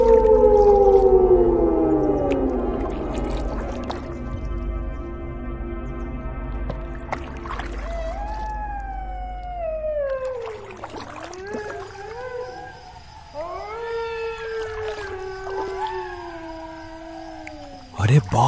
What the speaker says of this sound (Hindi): ये सियार कितनी डरावनी आवाज में चिल्ला रहे हैं